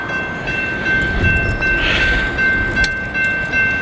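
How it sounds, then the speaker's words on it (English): Norfolk Southern freight train rolling up the line outdoors, a steady rumble of rail cars with a faint sustained horn tone running through it, fairly loud and close, no talking. "Got another train coming up the line."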